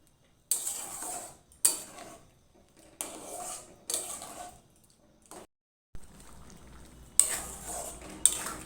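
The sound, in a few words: tarka (lentil curry) cooking in a pan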